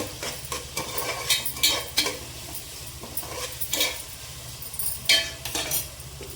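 Ginger paste frying in a pan for a Telangana-style goat head curry, with a steady sizzle under frequent metal spoon scrapes and clinks against the pan, close and without speech.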